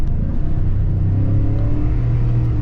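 A Mercury Marauder on bigger tires accelerates hard, its engine a loud, continuous low roar with pitch climbing steadily, heard from inside the car without talking.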